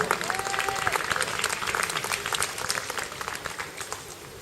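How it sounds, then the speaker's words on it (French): Crowd applause for Dutch stone-put athlete Peter Bouma at an amateur European team championship outdoors, a dense, steady clapping that carries evenly through the moment and tapers slightly at the end. "Je pense qu'on peut l'applaudir pour se réchauffer déjà."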